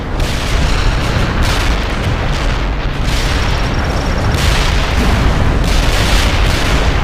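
Heavy gunfire and explosions in the World in Conflict strategy game form a loud, dense, unbroken roar of shots and blasts that pulses in waves, with no clear speech.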